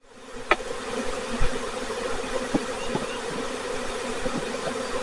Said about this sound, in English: When the bees are swarming, they really don't go after you at all.